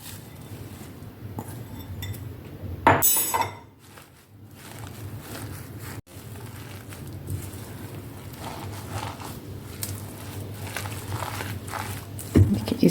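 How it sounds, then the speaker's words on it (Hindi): Chopped colocasia leaves being stirred into batter in a bowl for patra pakoda: a spoon scrapes and clinks intermittently against the bowl, with a sharper clatter partway through, amid soft kitchen background noise. "अरबी के पत्ते हमने जो चॉप करके रखे थे वो इसमें हम डालेंगे और इसे मिक्स करेंगे"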